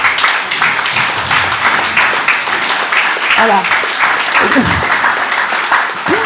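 Crowd applause at a village New Year's greetings ceremony in Badefols-d'Ans, a sustained burst of many hands clapping, with a voice heard briefly partway through.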